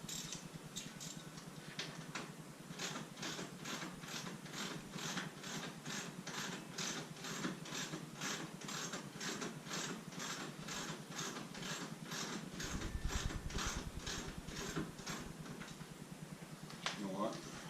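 A socket ratchet backs out half-inch bolts on a Jeep Wrangler JL, clicking in a fast, steady run of even ticks that continues throughout at close range.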